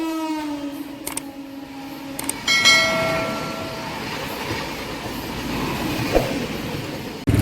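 The Tungabhadra Express at Kurnool City railway station sounds a long two-tone horn blast, then rolls by with steady clattering wheels and rumbling carriages close at hand.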